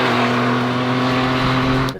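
An MV Agusta Rivale with an 800cc three-cylinder engine revs hard, giving a loud, close, steady and smooth engine tone that cuts off abruptly at the end.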